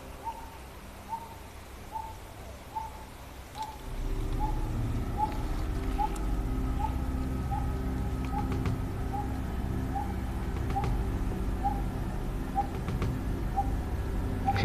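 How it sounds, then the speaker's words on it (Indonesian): A bird gives a steady series of soft, evenly spaced hooting calls in a teak forest near a river, over a quiet background that turns into a louder, constant rush partway through. "Ada burung."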